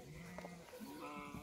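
Sheep in a flock of roughly four to five hundred bleat at close range, several overlapping wavering calls rising over a steady outdoor background, with faint hoof-like clatter.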